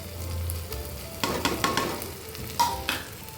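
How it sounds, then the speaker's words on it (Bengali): Spices sizzle in a pan while being fried for khichdi, a low continuous hiss broken by a few scraping stirs and clinks of a spoon against the pan, with no talk. "তো মশলাটা দেখুন ভাজা ভাজা হয়েছে।"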